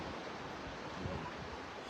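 North Sea waves washing onto the shore, a faint, steady broadband rush mixed with wind across the microphone, no voices.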